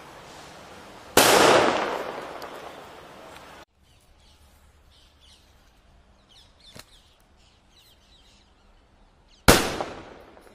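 Cock brand bullet bomb firecrackers exploding outdoors: two sharp, loud bangs several seconds apart, each followed by a decaying ringing echo, with faint background noise between.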